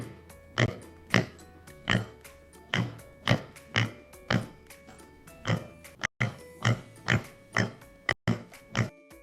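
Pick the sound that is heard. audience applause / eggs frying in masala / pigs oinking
pigs oinking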